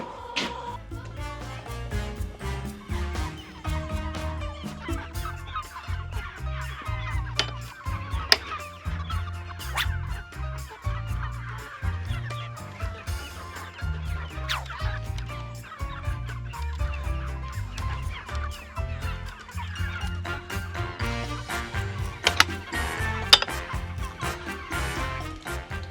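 Homestead chickens raised for meat cluck and murmur in bursts against a busy, cluttered background, with occasional louder calls over about twenty-six seconds.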